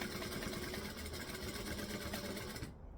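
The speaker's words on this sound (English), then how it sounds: "I'm going to stitch and back stitch just like we normally would." A sewing machine running steadily up close while stitching and back stitching a bag, a dense continuous mechanical whir that stops abruptly at the end.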